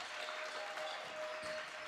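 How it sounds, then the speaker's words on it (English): Bench players clap at a boys' high school basketball game, a faint, steady patter of applause blending into the hollow gym ambience with a constant high tone running through it. "Jason Colleen trying to fire up his bench, get some claps going."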